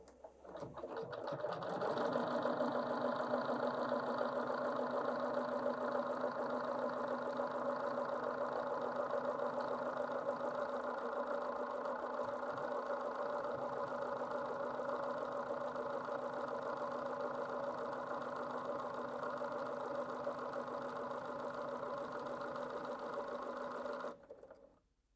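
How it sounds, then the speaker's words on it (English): A Bernina 770 QE Plus sewing machine stitching a buttonhole, its motor humming in a steady mechanical whir for over twenty seconds before stopping abruptly. "So I'm just going to pop my fabric underneath again and sew my buttonhole."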